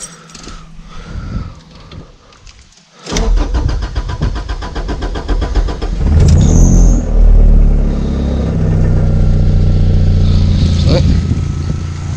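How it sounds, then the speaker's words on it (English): A Honda Civic, just repaired after being stuck in limp mode, cranks briefly and fires up, settling into a loud, steady idle up close after some quieter sounds beforehand. "Car seems to start fine."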